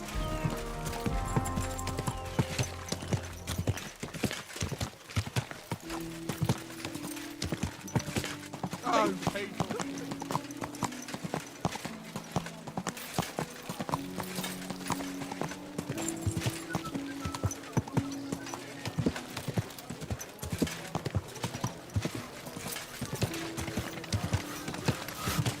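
Horse hooves clip-clop steadily in the game Kingdom Come: Deliverance 2, a continuous rhythmic plodding with occasional whinnies, set against music and a voice speaking.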